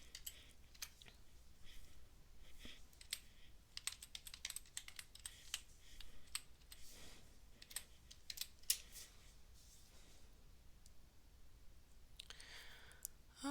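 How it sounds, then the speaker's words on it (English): Fingers type a username on a computer keyboard, with a steady run of light, close key clicks and taps at an uneven pace against a quiet background. "I'm going to go ahead and punch in my username for my test account."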